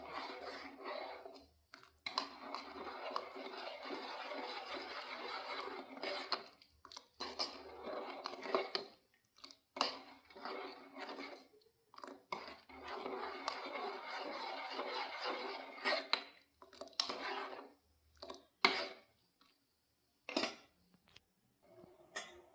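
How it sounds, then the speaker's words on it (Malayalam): A spoon stirs sugar in a pan for coconut milk pudding, with repeated metallic scraping and clinking in bursts separated by short silent pauses, close and fairly quiet. "ഇനി ഞാൻ അതിൽ പഞ്ചസാര മുക്കാൽ കപ്പ് പഞ്ചസാര ഇട്ട് കൊടുക്കാം ഇതൊന്ന് ഇളക്കി കൊടുക്കാം"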